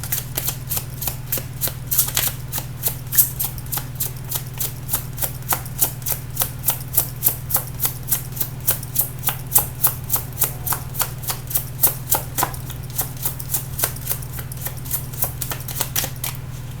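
Tarot cards being shuffled in a rapid, steady run of crisp riffling clicks that continues throughout, over a low constant hum, with no talking.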